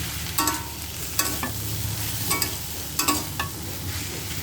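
Fish and vegetables are stir-fried in a pan: a continuous close sizzle broken by periodic scraping and stirring strokes from a spatula, fairly loud and even.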